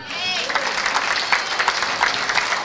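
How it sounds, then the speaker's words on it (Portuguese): Church congregation applauding in a continuous, loud burst of dense clapping with crowd noise, filling the whole brief moment. "Você pode aplaudir o Senhor?"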